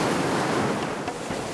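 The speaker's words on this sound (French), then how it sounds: "Il y a du vent aujourd'hui." Wind blowing outdoors at a waterside island location, a steady broadband rush like surf or gusts buffeting the microphone, continuous and fairly loud with no voices.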